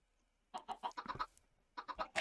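Minecraft chickens cluck inside a coop, two quick bursts of several short clucks after a brief silence, close and clear.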